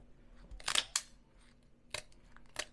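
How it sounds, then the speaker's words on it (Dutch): Scissors snip into a large Surinamese wolf fish (pataka) on a cutting board, a few sharp, close clicks and crunches spaced unevenly with quiet gaps between them. "dan gaan we eerst beginnen met de schaar"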